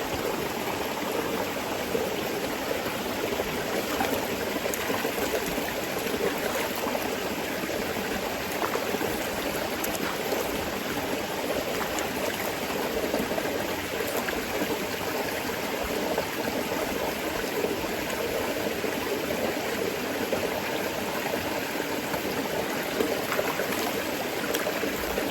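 A river runs steadily outdoors at a bathing spot, a continuous broad hiss and rush of flowing water that fills the whole stretch evenly, with no voices.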